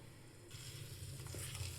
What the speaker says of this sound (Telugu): ఆయిల్ కొంచెం హీట్ అయింది, దీంట్లో తమలపాకు వేస్తున్నా ఫస్ట్ నేనైతే